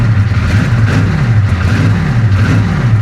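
Flood-damaged 1966 Chevy Impala with a 427 V8 that runs rough and will not idle on its own, its loud engine rising and falling in uneven revs close up throughout.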